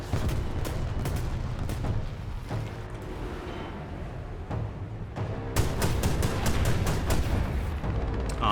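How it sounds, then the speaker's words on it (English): Tank cannon fire in War Thunder realistic mode, a Russian T-28 among the tanks: scattered sharp booms, then a quick run of loud reports near the end, over rumbling engine and battlefield noise. "But we got shot from behind? By the Russian T-28."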